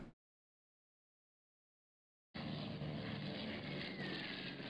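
Torpedo bomber aircraft in the naval strategy game Rule the Waves 3 approach with a steady propeller engine drone that cuts in abruptly after a silent stretch and holds loud and even.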